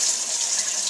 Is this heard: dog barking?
no